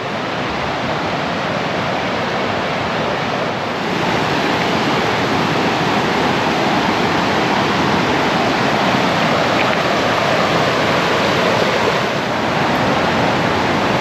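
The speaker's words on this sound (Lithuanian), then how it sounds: "Einu prie upės." A mountain river rushes through the Partnach gorge near Garmisch, a loud, unbroken roar of churning water that fills the whole stretch evenly, with no voices.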